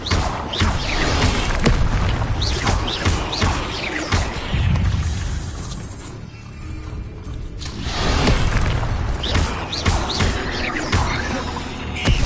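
Incendio fire spell cast in Hogwarts Legacy, a loud whooshing burst of flame with booming impacts amid busy combat, surging again after a brief dip.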